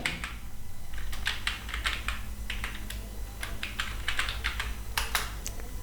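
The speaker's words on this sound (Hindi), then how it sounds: "यहाँ पे मैं कैपिटल में टाइप कर लेता हूँ" Fingers type on a computer keyboard while entering text in an Excel spreadsheet, giving quiet, irregular key clicks in short bursts over faint room hum, with no talking.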